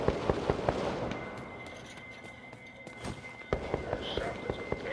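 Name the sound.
shotgun fire in the video game BloodHunt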